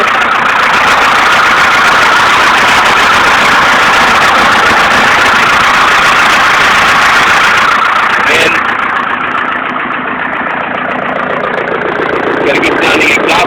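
A Detroit Diesel 453-T engine in a 1976 Ford F250 runs loud and steady at a rough, throbbing idle close by. The clatter softens briefly toward the end.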